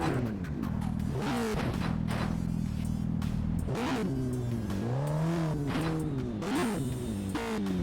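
A futuristic motorbike engine in the Gangstar Vegas video game revs and whines continuously, its pitch rising and falling through several throttle swells over steady mechanical hum.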